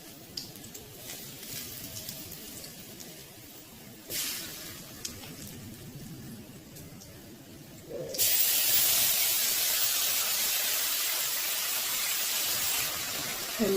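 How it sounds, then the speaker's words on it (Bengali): Ground paste of tomato, green chili, cashew and ginger meets hot oil, a steady close hiss that jumps into loud, continuous sizzling partway through and holds to the end. "যে মশলাটা টমেটো, কাঁচা লঙ্কা আর কাজু দিয়ে বেটে রেখেছিলাম, আদা বেটে রেখেছিলাম, সেটা দিয়ে এবার তেলে দিয়ে দেবো"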